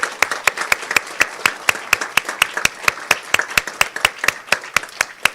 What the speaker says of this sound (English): I just wanted to give them a round of applause.